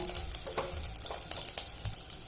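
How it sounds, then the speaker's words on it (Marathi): Seven or eight garlic cloves fry in hot oil, giving a faint, continuous sizzle with a few soft scraping stirs as they are tossed to turn golden. "तेलामध्ये टाकते सात ते आठ लसणाच्या पाकळ्या लसण छान परतवून घ्यायचा"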